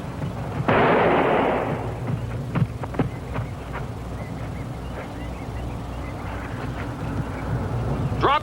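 Gunfire in a dramatized 1930s-style police shootout: a loud burst opens the scene, then several sharp cracks and pops scatter across the rest, over a steady rumbling background.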